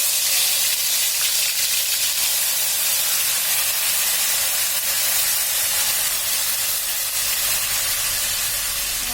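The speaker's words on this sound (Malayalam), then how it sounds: "നമ്മൾ വെളിച്ചെണ്ണ ഇതിൽ ഒഴിക്കുകയാണ്. ഇത് പതച്ചു തുടങ്ങിയിട്ടുണ്ട്." Homemade hair oil mixture poured into hot coconut oil, giving a loud, continuous hissing and bubbling like steam that stays close and even throughout, with no voices.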